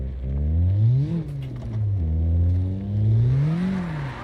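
In the CarX Drift Online racing game, a car engine revs during a handbrake drift slide, rising and falling in pitch in a steady, close whine.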